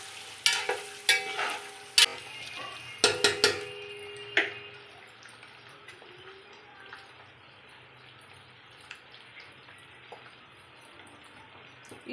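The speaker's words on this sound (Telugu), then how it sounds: "ఇప్పుడు ఇవన్నీ కొంచెం ఉప్పు, కారం అన్నీ ఎగ్స్కి పట్టేటట్టు కొంచెం ఫ్రై చేసుకుందాం ఎగ్స్ని" Eggs coated with salt and chili powder frying and being stirred in a pan for egg biryani, with several sharp scraping clatters early on, then a steady soft sizzle close by.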